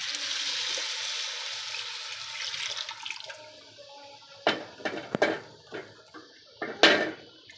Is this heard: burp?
no